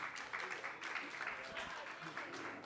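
A magic show audience applauds as volunteers head to the stage, a dense, even wash of clapping that keeps going to the end, with a voice faintly audible beneath it.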